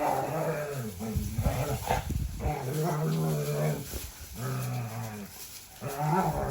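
A Dalmatian mother and her puppies make whining, grumbling and yelping noises close by while rustling in straw, with some human speech mixed in.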